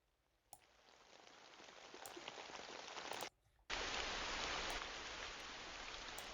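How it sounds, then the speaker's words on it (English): Steady rain ambience playing as a recording, a broad hiss of rainfall that thickens and grows heavier partway through after a brief drop-out, with no voices. "Let's just go with some rain, maybe some rain sounds."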